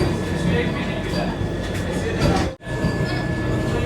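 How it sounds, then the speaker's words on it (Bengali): The Puri–Howrah Vande Bharat Express rolls out of Puri station, a dense continuous rumble and rail noise heard from inside the coach, with a brief sharp dropout near the end; voices talk faintly in the background. "7 মিনিট লেট করে ট্রেনটি ছেড়ে দিল"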